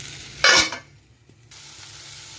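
Cut tomatoes tipped into a hot pan and stirred, giving a short loud burst of sizzling and scraping that fades to a soft steady frying hiss.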